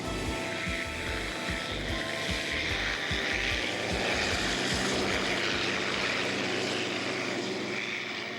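Several unlimited hydroplane racing boat engines roar together at a race on the Ohio River in Evansville, Indiana, in a continuous, loud, buzzing drone, with rhythmic thumps early on and no voices.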